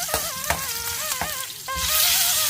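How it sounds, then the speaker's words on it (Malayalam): Small red onions (shallots) sauté in a pan with a steady frying hiss and rhythmic clicks of a stirring spoon, while a warbling whistle-like tone runs through; the sizzle swells louder near the end. "ഇനി നമുക്ക് ഈ ചുവന്നുള്ളി ഒന്ന് നല്ല രീതിയിലൊന്ന് വാടി വരേണ്ടതുണ്ട്. അപ്പോൾ അതിനായിട്ട് ഒരു 5-6 മിനിറ്റ് നമുക്കൊന്ന് വഴറ്റിയെടുക്കാം"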